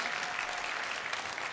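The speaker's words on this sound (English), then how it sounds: "Let's give them a round of applause." Audience applause at a spring ballet performance by an after-school ballet program: steady, dense clapping from a crowd, fairly distant and even throughout, with no talking over it.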